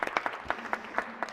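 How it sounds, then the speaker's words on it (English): Applause in a state Senate chamber for a group of county Teachers of the Year, a brief patter of clapping hands from a modest crowd, moderately loud and with no talk over it. "Give them another applause."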